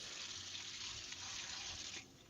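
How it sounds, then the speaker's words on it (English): Water runs from a tap in a steady, hissing stream, continuous and fairly faint, then cuts off near the end. "I can hear the water running."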